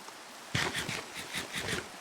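Steady hiss of rainfall with soft patter in Minecraft, fairly faint and even throughout, starting after a brief quiet moment.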